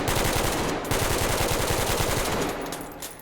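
A rifle chambered in 7.62x51mm NATO fires rapid full-auto bursts on a firing range in Ready or Not, loud close staccato shots in a steady stream.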